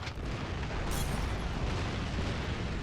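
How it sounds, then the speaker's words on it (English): Artillery shells exploding in city streets during a war video game battle in Moscow, a dense, loud, continuous rumble of blasts with one sharp burst near the start, no voices over it. "Oh, artillery's hitting the streets."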